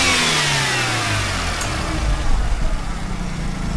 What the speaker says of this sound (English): the engine is sweet as, I can tell you that